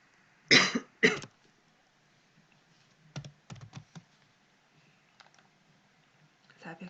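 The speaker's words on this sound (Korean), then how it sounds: "미안해요. 기침을 또 하네." Two sharp, close coughs early on, followed by scattered keyboard typing and clicking in a quiet room.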